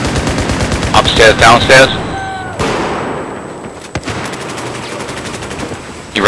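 Rapid automatic gunfire crackles in Battlefield 4's Operation Locker map, with loud bursts early, then a sharp crack and a lingering, reverberant tail in the enclosed space. A player's voice speaks briefly over the shots.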